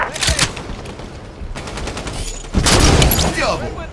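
Rapid gunfire in Halo 5 comes in two loud bursts, a sharp cluster at the start and a heavier volley later, with quieter shots between and a game announcer's voice over it.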